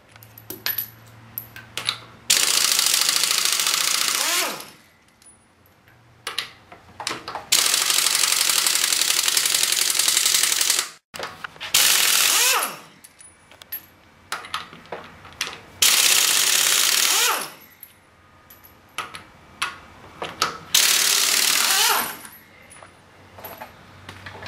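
Air impact wrench spinning off the lug nuts to remove a front wheel from a raised Lexus IS, in several loud sustained bursts separated by short gaps with small metallic clinks and handling noises between them.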